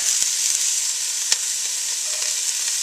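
Garlic hits sizzling onions in a pan, a loud continuous hiss of frying with a couple of sharp clicks, no talking.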